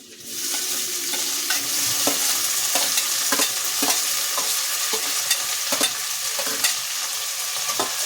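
Tomatoes cook in a hot pan for sprouted horse gram saaru, giving a loud, continuous sizzle with repeated crackles and stirring clatters throughout.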